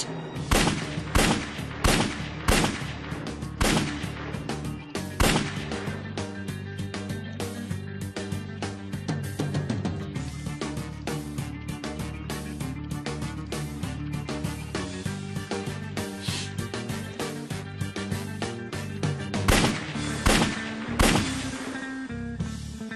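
A long string of sharp gunshots cracks out in quick, irregular bursts, loud and close, with a few heavier booms among them.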